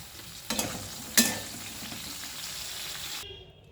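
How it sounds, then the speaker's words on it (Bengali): Pointed gourd (potol) frying in oil with a pinch of salt, a steady close sizzle broken by two sharp clattering stirs, the frying continuing alone until it cuts off near the end. "এখন একটু পটলগুলো ভালো ভাজার জন্য একটু সামান্য নুন দিয়ে দিচ্ছি যাতে পটলগুলো খুব ভালো করে ভাজা হয়ে যায়"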